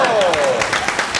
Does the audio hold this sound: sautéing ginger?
no